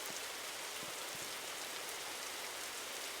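Steady, dense rain in a Roblox video game patters continuously, an even hiss of drops with a few heavier splats close by and no voices.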